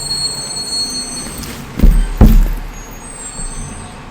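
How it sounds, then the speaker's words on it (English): A dump truck pulls up outside with two sharp, loud bursts of air-brake hiss over a steady low rumble of engine and traffic. "The dump truck is here."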